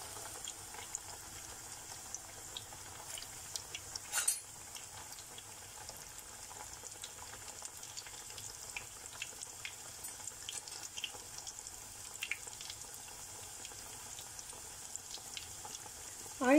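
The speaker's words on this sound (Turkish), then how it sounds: "Yağımız iyice kızardıktan sonra hazırlamış olduğumuz ağzı açıkları kızartacağız" Soft, steady crackling and bubbling of minced-meat-filled Şanlıurfa pastries frying in hot oil continues quietly, with occasional louder pops and sizzles.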